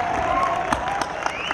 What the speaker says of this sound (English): Give him a great applause, friends.